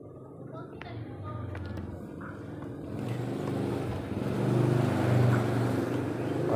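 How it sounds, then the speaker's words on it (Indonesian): Steady roar of passing roadside traffic with motorcycle engines swelling and fading nearby, a continuous rumbling wash that grows louder toward the end. "agak berisik karena di pinggir jalan ini banyak lalu lalang kendaraan sepeda motor"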